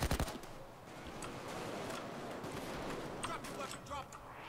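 Payday 2 gunfire aimed at a lock: a quick burst of close shots opens the clip, followed by scattered game noise and a few softer pops, with a voice talking over it.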